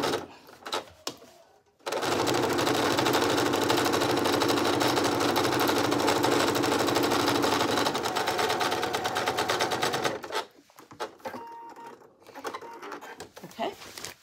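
A sewing machine runs a long continuous burst, re-stitching a seam on a dress made from a Simplicity 9745 pattern after a basting stitch was left on, with brief handling sounds and quiet talk before and after the steady run.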